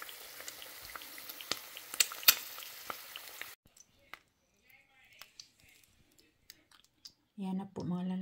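An egg fries sunny side up in a pan for a Filipino breakfast, a loud, close sizzle and crackle lasting a few seconds before cutting off, leaving quiet clicks and then a voice speaking.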